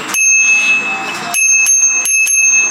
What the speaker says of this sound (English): this is a tap bell. It taps like a bird, like a bird's beak.